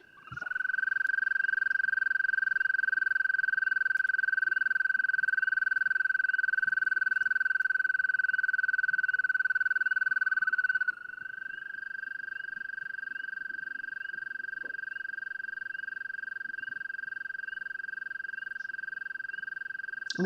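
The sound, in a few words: frog call, a long high-pitched trill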